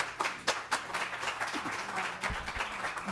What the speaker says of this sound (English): we don't do the clapping thing